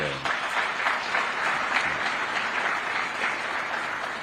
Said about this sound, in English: May we clap for this.